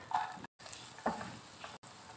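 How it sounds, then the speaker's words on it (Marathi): Chopped onion frying in a tablespoon of butter in a kadai, a soft sizzle with stirring that comes in two short bursts, split by brief silent gaps. "याच कढईत 1 टेबलस्पून मी बटर टाकत आहे। 1 बारीक चिरलेला कांदा टाकत आहे।"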